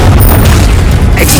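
A loud, dense blast of an explosive spell in a Harry Potter-style wizarding video game trial, one sustained booming burst filling the short moment.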